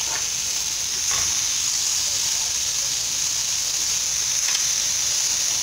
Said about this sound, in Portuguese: vou assar a primeira carne de sol